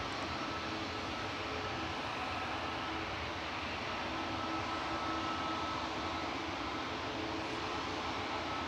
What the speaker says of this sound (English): Next up for departure is EasyJet to Alicante, flight 2013